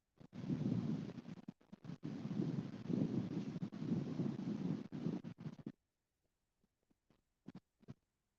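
Wind gusting over the microphone beside a river during king salmon fishing, a loud continuous rumbling buffet for several seconds that suddenly drops away to near silence, with a few faint bumps afterward.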